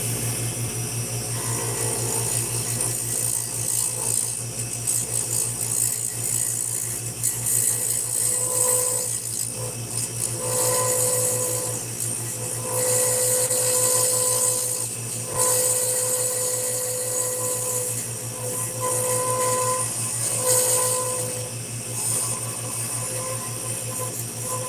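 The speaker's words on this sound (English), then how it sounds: "if you're going to buy a lathe, go with one that's got a variable speed motor" Wood lathe turning beads, with a steady motor hum and continuous tool scraping and rubbing against the spinning workpiece, close and loud for the whole stretch with no talking.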